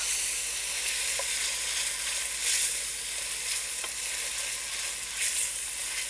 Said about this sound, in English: so I cook my onion and garlic.